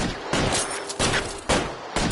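Repeated bursts of gunfire in the video game L.A. Noire, loud volleys arriving roughly every half second to a second, close and dominant with no talking over them.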